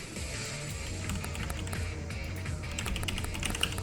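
Computer keyboard typing at a desk while entering a name in a game team builder, a soft steady patter of quick keystrokes under faint background noise, no speech.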